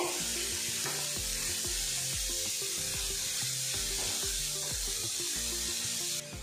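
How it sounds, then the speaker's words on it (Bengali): Grated carrot fries in ghee in a pan with a steady, close sizzle that holds without a break from start to finish. "গাজরটা আমি হালকা করে ভেজে নেব যতক্ষণ এর কাঁচা গন্ধটা চলে যাচ্ছে"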